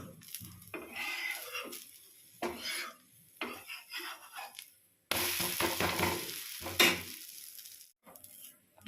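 Flatbread fries in oil in a pan, with bursts of sizzling, scraping and utensil clatter separated by quieter gaps, growing louder and busier in the second half.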